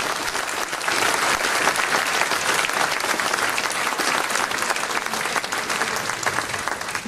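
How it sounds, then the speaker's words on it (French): An audience at a French lecture on China applauds, a dense, even clapping from many hands that swells quickly, holds steady for several seconds and begins to taper at the end. "Je crois qu'on peut vous applaudir."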